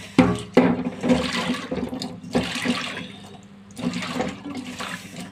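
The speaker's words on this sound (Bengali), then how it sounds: "আমি নিয়ে নিব গরম পানি, কিছু গরম পানি দিয়ে ধুবো, যাতে কচুর গায়ে বিজলেটা না থাকে।" Hot water pours and splashes over taro corms being washed of their slime, in loud gushing bursts with short gaps, the strongest at the start and again midway.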